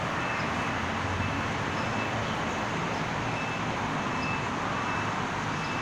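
A Bangkok MRT Purple Line train crosses the Phra Nang Klao bridge over the Chao Phraya River, giving a steady, broad rumble and roar that holds at an even level throughout, with no voices.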